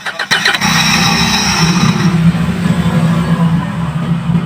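A Kia Bongo 3 van engine runs with a steady low drone and a bright, sustained hiss from a faulty fuel injector over it, loud and close, after a brief rough start.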